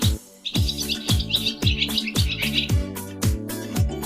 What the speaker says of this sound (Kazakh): Қарлығаш.